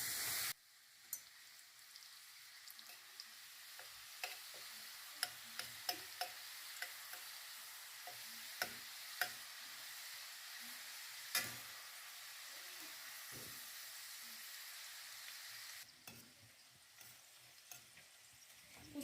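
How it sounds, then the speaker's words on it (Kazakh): Small pieces of sweet chak-chak dough fry in hot oil with a soft, steady close sizzle, broken by scattered light clicks and stirring taps, with no voices. "ыстық майда қуырамыз"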